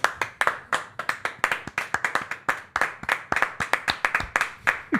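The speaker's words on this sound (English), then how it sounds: "That's a standing ovation." A few people at a football match between Arsenal and PSG clap steadily and close by, sharp hand claps in a quick irregular rhythm as a player is applauded off.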